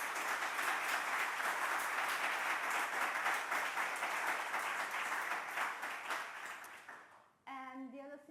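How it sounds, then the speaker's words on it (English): Conference audience applauding at the end of a session, a dense sustained round of clapping that gradually fades, then a voice speaking alone right after. "so big applause."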